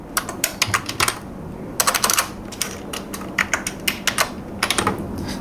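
Typing on a computer keyboard while entering month names into an Excel sheet: steady bursts of close, crisp key clicks with short pauses between words, no talk over them.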